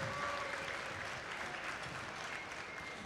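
An audience at a FIRST robotics competition applauds: dense, steady clapping from a large crowd in a big hall, sustained and even throughout.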